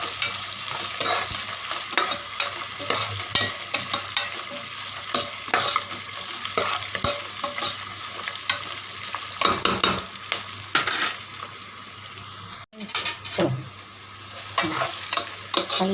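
Bay leaves sautéing in a pan for a coconut milk pulao, a close sizzle punctuated by frequent rhythmic stirring scrapes of a spoon against the pan, with a brief pause near the end.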